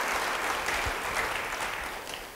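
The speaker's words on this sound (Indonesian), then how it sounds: "Yang mau beri tepuk tangan bagi dia." Steady applause from a church congregation fills the space, a dense even wash of clapping that holds at constant loudness from start to finish, with no talk over it.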